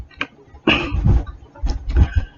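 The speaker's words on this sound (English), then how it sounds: "I have a dry cough today" Several dry, harsh coughs in quick succession, close and loud, with brief pauses between.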